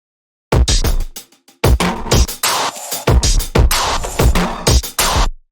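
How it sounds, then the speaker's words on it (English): Distorted drum sample playing back in Ableton Live: loud, punchy, saturated hits in choppy bursts with short gaps between them, close and dry, no voice. "It's a drum sample that sounds like this."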